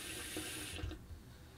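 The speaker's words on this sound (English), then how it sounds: "fill it with hot water so you can create some nice suds for cleaning" Hot water runs from a tap into a bowl for shaving-kit cleaning, a soft rushing splash that quiets partway through, leaving a faint low trickle.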